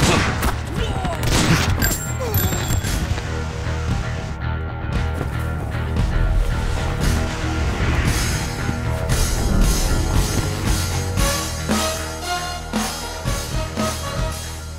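A volley of gunfire in a dubbed Tamil action film, with dense rapid cracks and booms running continuously under loud music and effects, and a shouted command in the mix.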